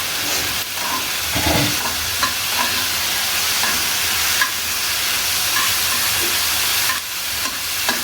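Onions stirred while frying in a pan over raised heat, a dense hissing sizzle with intermittent scraping and clinks from the spoon, close and fairly loud with no voices.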